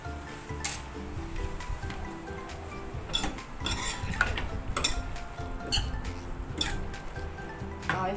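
Dry ingredients and fresh herbs for pork namtok are tossed together in a bowl, giving scattered clinks and scraping knocks of utensils against the dish over a low kitchen background.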